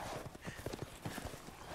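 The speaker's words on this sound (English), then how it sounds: "And they're on horses." Horse hooves clip-clop in a rhythmic trot in the Resident Evil Village video game, steady beats over a dense, noisy game soundscape.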